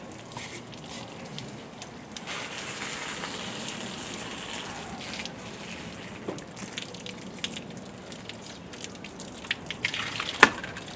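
Water runs and gushes steadily into a pond filter, with light splashing, dripping and a few sharper knocks toward the end. No one speaks.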